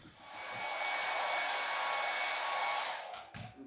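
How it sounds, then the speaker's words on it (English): A hair dryer drying paint whirs with a steady, airy roar for about three seconds, then switches off, followed by a couple of soft clicks. "a million ways to use a hairdryer"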